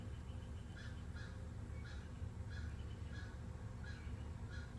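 Faint, distant caws repeat at a steady pace, about eight calls, over a low rumbling background.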